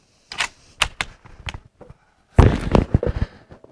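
A Mauser 1895 Chilean rifle fired with a mild load, heard as a sharp close report followed by a burst of dense crackle and echo, after a few scattered clicks and knocks.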